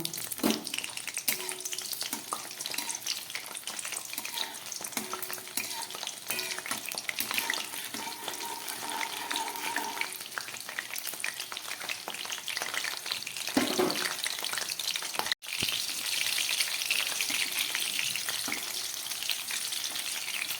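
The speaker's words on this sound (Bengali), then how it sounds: "আমি একদম প্রথমে একটু কাঁচা লঙ্কাটাকে ভেজে নেব।" Steady, close sizzling of green chillies frying in hot oil, a dense crackle that runs throughout with brief shifts and one momentary break near the end.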